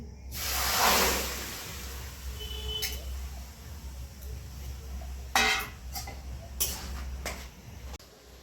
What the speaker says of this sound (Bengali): কড়া গরম হয়ে গেছে আমি লাউ সেদ্ধ করতে বসি দিচ্ছি